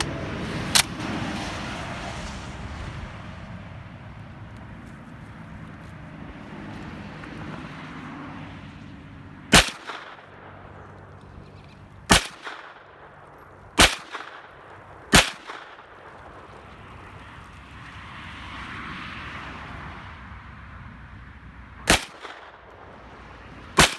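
A GSG MP40 firing about eight sharp, loud single shots, each a separate crack that rings out against outdoor background noise, spaced irregularly at intervals of one to several seconds.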